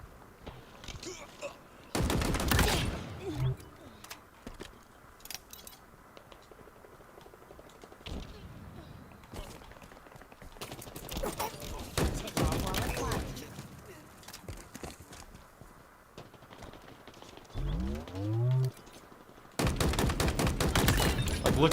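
Gunfire from a weapon in the video game Halo Infinite, several separate bursts of rapid shots spread across the clip, loud and sharp, with a voice talking between and under them.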